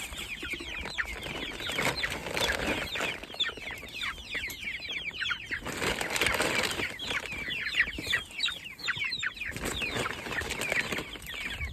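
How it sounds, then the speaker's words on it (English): Young Cornish cross chickens clucking and cheeping constantly, a busy, close flock chorus with some wing flapping, no talking. "Look at all them little chickens."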